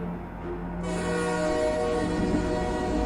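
A train rolls past at a river junction, a loud sustained rumble with a steady horn-like tone that swells and thickens partway through, no voices.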